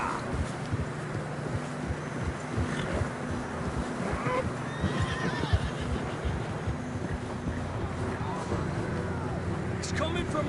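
Horses in the open-world game Red Dead Redemption 2, with neighs and whinnies rising over a steady bed of hooves, wind and outdoor ambience, continuous and moderately loud throughout.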